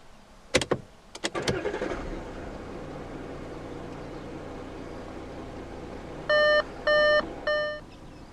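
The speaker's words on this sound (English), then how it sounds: "To start the A5, put your foot on the brake, insert the key fob into the slot right here, and push it down all the way." A 2015 Audi A5 Coupe 3.0 V6 TDI quattro starts with the key fob: a few sharp clicks, then the diesel catches and settles into a steady idle, followed by three bright electronic chimes near the end.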